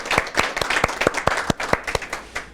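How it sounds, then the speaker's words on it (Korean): A small congregation at a prayer meeting claps for the broadcaster CTS, about a dozen brisk, distinct claps in an uneven rhythm, close and clear, with no talk over them. "우리 한번 CTS 위해서 한번 박수로 한번 하나님 앞에"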